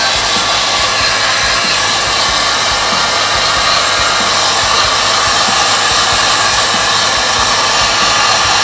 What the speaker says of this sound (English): we'll use a hairdryer to heat and remove the shellite from each part